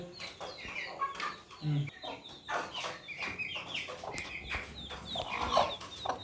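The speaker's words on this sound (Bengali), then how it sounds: "আলহামদুলিল্লাহ মুরগির বাচ্চা ফুটে গেছে" Newly hatched chicks and a hen in a small clutch, nine hatched from ten eggs, cluck and peep in a busy, overlapping chorus close by, with a voice speaking briefly in the background.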